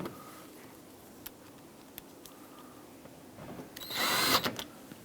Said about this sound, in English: And now we can put the 3 T20 screws back in.